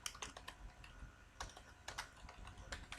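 Rapid clicking keystrokes on a computer keyboard, an irregular close patter of taps and clusters with no talk, fairly quiet overall.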